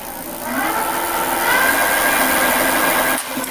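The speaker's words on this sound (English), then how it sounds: "we can turn on the motor and hopefully we have a working motor" E-bike hub motor on a VoltBike running after a motor core replacement, a steady whirring hum that holds for a few seconds before dropping off.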